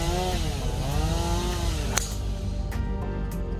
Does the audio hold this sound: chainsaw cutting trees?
yes